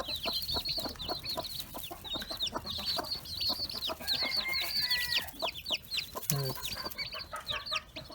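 A hen with adopted chicks, including dwarf Cochin chicks, clucks in rapid repeated calls while high, thin chick peeps chatter continuously around her, close and lively.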